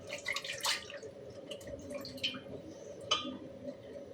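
Water drips and splashes faintly in short, irregular patters as a ridge gourd is rinsed in a kitchen, close by and quiet.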